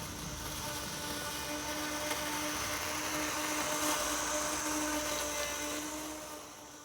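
A robot lawn mower drives past up close, giving off a quiet, steady electric whine with faint tonal hums that swells slightly and then fades as it moves away.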